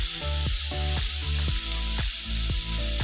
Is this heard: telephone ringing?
no